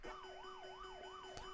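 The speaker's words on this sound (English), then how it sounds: "start sound Pac-Man extra life, which sounds like this" The Pac-Man extra-life sound: an electronic tone warbling up and down like a siren, about five even cycles over a steady higher note.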